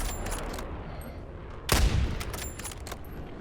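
A single burst of gunfire from the video game Warzone cracks out once, fairly near and loud, over steady low game ambience with no talk.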